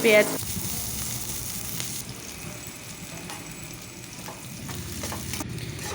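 Chopped onion hits reused hot oil in a wok with a loud initial burst, then settles into a steady, dense sizzle with light stirring scrapes throughout.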